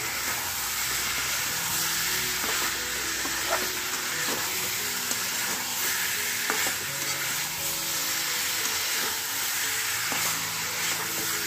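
Spicy chicken curry sizzles steadily in a pan while a spoon stirs it, giving a continuous close frying hiss broken by soft scraping and occasional clinks.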